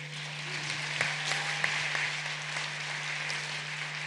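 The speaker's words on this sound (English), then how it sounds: "Another round of applause for President Samia Suluhu." An audience applauds a presidential speech at a formal climate event, with sustained, even clapping from a large crowd that holds steady for several seconds under a constant low hum.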